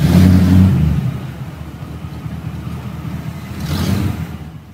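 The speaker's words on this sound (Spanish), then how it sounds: "Le metió fierro al coche y también nosotros salimos como bala." A car accelerates hard through a night chase in a radio drama, its engine roaring loudly at first, then settling into a steady mid-pitched rumble before surging again toward the end.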